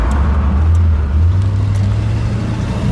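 A green 1967 Ford Galaxie 500 convertible with a 428 V8 cruises along a road with mountains nearby, its engine giving a steady, close, low rumble that swells slightly partway through, with no talk.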